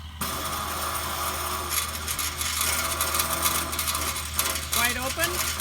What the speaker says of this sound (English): the sound you hear is the tank filling